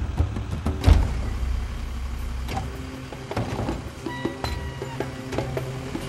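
A recycling collection truck drives past with mechanical whines, clanks and a rising engine thump, moderately loud with no talk over it.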